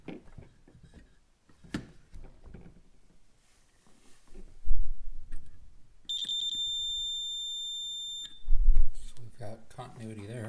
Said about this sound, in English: you can put it on your continuity checker setting and just make sure you have continuity